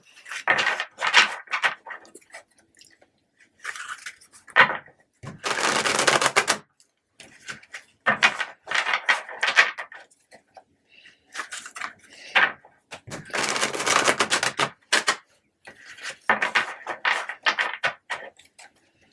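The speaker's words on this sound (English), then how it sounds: "I'm going to shuffle one more time for you." Repeated bursts of riffling and clattering tarot cards being shuffled, some quick and crisp, others longer, separated by brief pauses; no speech.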